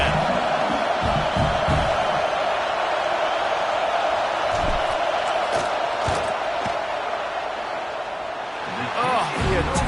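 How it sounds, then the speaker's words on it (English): Stadium crowd at an Alabama football game roaring steadily through a field goal attempt, a dense, loud wash of voices trying to rattle the kicker, with a few sharp thumps and whoops rising out of the din. "This crowd trying to do its part to get inside the kicker's head"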